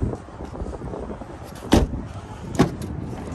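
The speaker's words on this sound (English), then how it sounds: "Sliding door." Sliding door on a 2019 Ford Transit Connect Passenger van, heard as two sharp, fairly close thuds about a second apart, the second slightly softer, over a quiet background.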